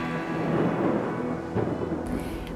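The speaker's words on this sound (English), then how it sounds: "An explosive clap of thunder with sound waves that move through the air at 720" An explosive clap of thunder breaks into a deep, rolling rumble that swells loudly and then fades, with a faint hiss like rain underneath and a sharp cutoff at the end.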